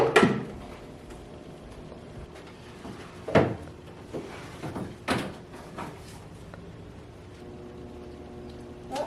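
A grandmother's drawer being handled indoors, with several wooden knocks and slides as it opens and shuts, close by and fairly quiet against a low room hum.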